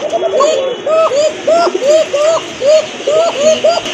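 Pigeons with striking markings, kept for sale along with eggs and chicks, coo in a steady repeating rhythm, the soft throaty calls close by and layered over a constant low background hum.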